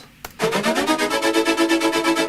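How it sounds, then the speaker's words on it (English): A sine-wave synth patch from Massive plays alone, a steady pulsing tone swelling in an even rhythm after a brief click, loud and close. "I used a kind of sine wave from Massive,"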